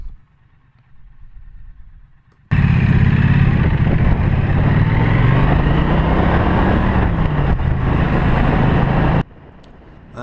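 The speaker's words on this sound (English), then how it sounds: "the 270-degree crank puts out a really nice engine note" A Triumph Bonneville Street Twin's 900cc parallel twin with a 270-degree crank, heard while riding, swells into a loud, steady engine roar that holds for several seconds, its pitch rising and falling slightly, then drops away.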